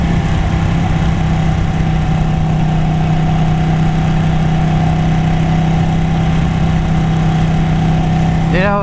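A Ducati Panigale 899 motorcycle idles close by with a loud, even, throbbing drone that holds steady throughout, and a brief voice comes in at the very end.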